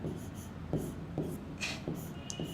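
Chalk or marker strokes scratch across a board while a chemical formula is written out, a series of short rubbing strokes spaced about half a second apart, fairly close and quiet, with little else around.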